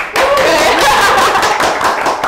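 A studio audience bursts into close, loud clapping, mixed with chuckles and light laughter, starting abruptly and holding steady before easing slightly at the end.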